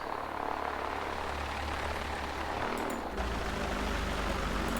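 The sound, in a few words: airplane taxiing toward takeoff in X-Plane flight simulator video game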